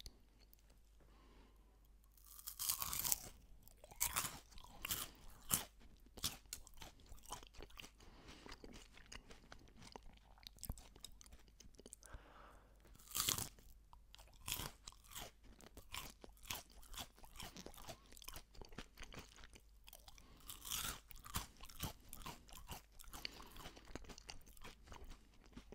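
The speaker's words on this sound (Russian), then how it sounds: "Послушаем, как хрустит." Crunchy Kinder, Raffaello and Ferrero chocolates chewed close to the mic, with sharp crackling crunches and steady wet mastication running throughout, no talk.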